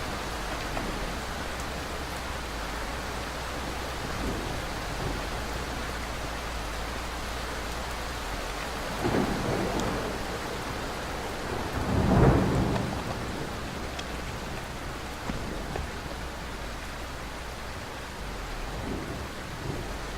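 Thunderstorm from a video game's dynamic weather system: steady rain hiss throughout with a few rolling thunder rumbles, the loudest and closest crack arriving past the midpoint, no voices.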